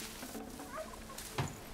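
Wild turkey in the video game Horizon Zero Dawn gobbling in a short, quiet burst of warbling calls, with a brief louder note near the end.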